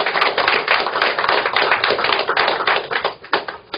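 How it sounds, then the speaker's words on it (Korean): A lecture audience applauds together, a dense, continuous wash of many hands clapping at close range for a few seconds before tapering slightly near the end. "우리 여기서 우리 이승만 대통령 박수 한번 보냅시다."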